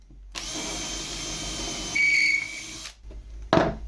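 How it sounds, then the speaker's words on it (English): A power drill bores dowel holes through a Wolfcraft Dowelmaster jig, whining steadily for a few seconds and rising in pitch as it cuts, then stops before a brief final burst, loud and close. "Grab the drill. Drill it through there."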